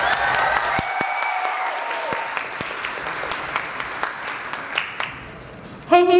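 A school multicultural performance audience applauds the performers, dense steady clapping from a large crowd with a few sharper claps standing out, fading slightly before a short louder burst at the end.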